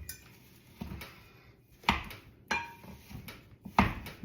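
A mix and chop utensil breaks up partly frozen food, with four sharp, close scraping clunks at irregular intervals over a quiet background.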